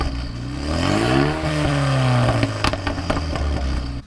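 A tuned Clubsport-spec car engine with a silencer delete revs up sharply and holds a loud, rising drone, then drops off with crackling pops from the exhaust.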